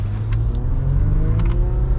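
A 2021 Ram 1500 Longhorn EcoDiesel pickup accelerates with a deep, close rumble that holds steady throughout, its engine note rising gradually beneath faint whirring.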